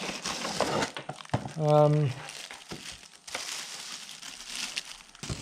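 Plastic packaging crinkles and crackles as a pair of USB-powered Astrum ST100 desktop speakers is pulled out of a plain box with no cushioning, with a brief tonal thud midway and someone talking intermittently.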